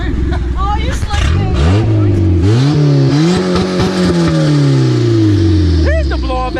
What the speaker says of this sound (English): There's the blow off valve.